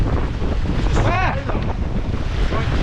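Ocean waves wash against jagged rocks at Crystal Pools near Foster, NSW, on a falling tide, with a loud, steady surf roar mixed with wind buffeting the microphone and a brief voice partway through.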